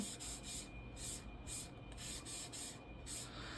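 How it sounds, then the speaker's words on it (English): A Mr. Clean Magic Eraser is rubbed across a vintage comic book cover, producing soft rhythmic scrubbing strokes, about ten in quick repeated succession, close and faint with no talk. "I'll take my little Mr. Clean Magic Eraser and just kind of give it a nice little rub"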